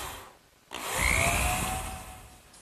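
A power drill drives screws into a wooden hearth-side settle, one sustained whirring burst that rises, holds near and loud for about two seconds, then winds down.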